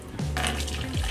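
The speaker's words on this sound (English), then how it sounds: "Water coming in." Water pours into a small plastic toy spa tub from a tap, giving a short splashing gush that starts abruptly and runs steadily for about a second.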